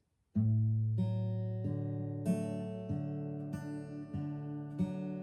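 Slow, evenly spaced fingerpicked acoustic guitar notes, one every half second or so, ringing into each other in a repeating low-to-high pattern, close and unaccompanied.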